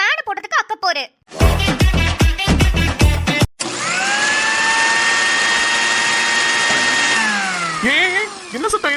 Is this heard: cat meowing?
no